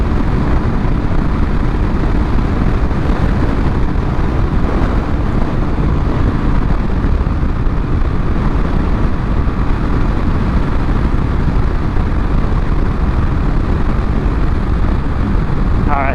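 A Honda ADV 150 scooter runs at full throttle near 60 mph on a windy day, with constant roaring engine and heavy wind buffeting filling the whole stretch at a steady, loud level.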